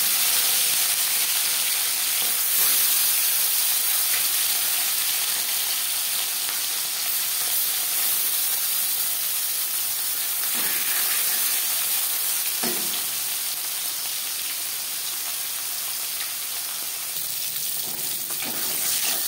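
Fish fries in about three spoons of hot refined oil, producing a continuous close sizzle with occasional sharper spits and light clatters, and no voices.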